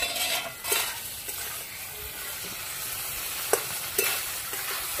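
Spices fry with tomato and potato in a pan for a tilapia curry, a continuous close sizzle broken by occasional scrapes and knocks of a stirring spoon.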